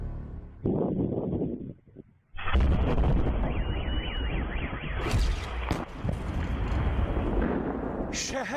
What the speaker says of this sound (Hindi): बहुत तेज धमाका हुआ।